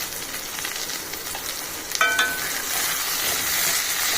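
Peas, chopped carrot and a small capsicum sizzle and fry steadily in a hot pan, with a brief clatter of stirring near the middle and a continuous close hiss with no talking.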